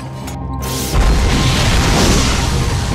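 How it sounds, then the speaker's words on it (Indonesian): An explosion in a film, a loud deep boom that bursts in after a brief pause and rolls on as a heavy, sustained rumbling roar filling the low end. "Karena ledakan tadi"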